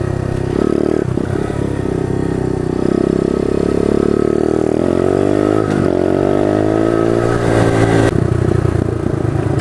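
A pit bike riding along a dirt road toward a wash, its engine droning loud and close throughout, rising and falling in pitch with throttle changes, with some rattling over rough ground.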